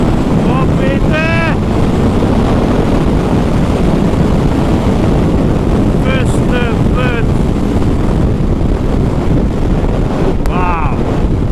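A new 2020 Suzuki Hayabusa is ridden, its engine rising in a few whining revs through the gears, heavily buried under constant roaring wind buffeting.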